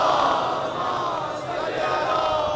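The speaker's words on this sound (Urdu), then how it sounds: "اور بلند صلوات پڑھ لیں نبی کی طرف." A large crowd at a Muharram majlis in Nister Park, Karachi, loudly recites salawat together, forming a dense, sustained roar of massed voices that fills the whole moment.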